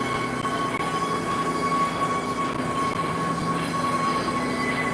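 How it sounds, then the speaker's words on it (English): A subway train at a subway station gives a steady, loud rumble with a sustained metallic whine over it, continuous and unchanging for the whole stretch, with no voices. "So now we're passing the subway station."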